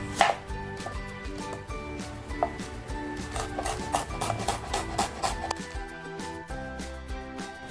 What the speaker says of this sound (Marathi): कांदा घेतला होता ना तो कांदा कापून घेते